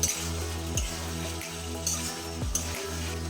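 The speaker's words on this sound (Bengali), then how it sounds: "লো ফ্লেমে 2-3 মিনিট মশলা টমেটো কষিয়ে নেব।" Spiced tomato masala with potatoes sizzling over a low flame for a vegetarian curry of pointed gourd, potato and pumpkin, with faint frying, a steady kitchen hum and a few spoon scrapes against the pan.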